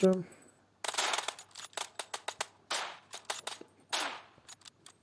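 Rapid bursts of game gunfire crackle in uneven volleys, sharp single shots and short strings, fairly loud with brief gaps between them.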